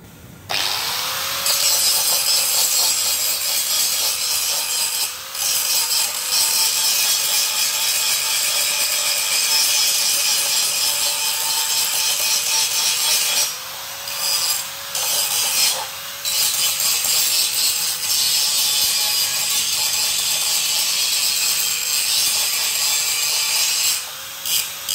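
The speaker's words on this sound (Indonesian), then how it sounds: "saya gerinda dikit ya biar nggak terlalu kasar nih" An angle grinder smooths a rough metal stand for a tarp, running as a loud, continuous high whine with gritty rubbing, briefly dipping in a few spots before resuming.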